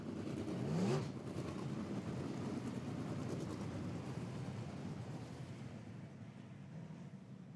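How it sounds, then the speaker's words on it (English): Sprint cars circle a New Zealand speedway track during a heat, their engines a steady, distant roar that swells briefly near the start and then holds, fairly faint, with no talking. "Quick shout out while the sprint cars head around."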